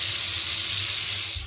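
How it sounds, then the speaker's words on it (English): Powerful, smooth stream of water pouring from a tap in a newly renovated bathroom, a steady loud broadband rush close by that fades slightly at the very end. "Watch the smoothness of the flow. It's pretty powerful"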